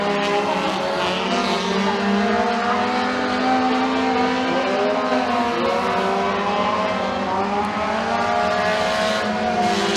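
Race cars roar down the front straightaway of the McKean County Raceway dirt track during a heat race, a loud, continuous engine drone with steady overlapping motor tones and no talk.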